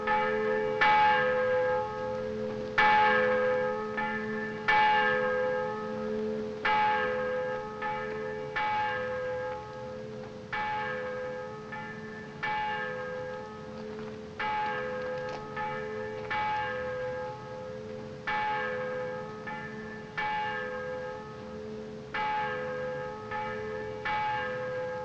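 Church bells peal steadily in repeated overlapping strikes, each ringing tone decaying into the next, loud and close with no voices.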